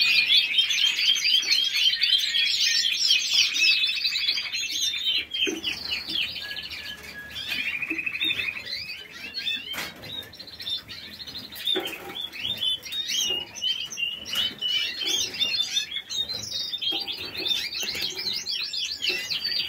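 Caged songbirds, some of them late-hatched young, sing close by in a bright, busy chorus of trills and chirps that runs continuously, with overlapping phrases rising and falling and occasional soft fluttering.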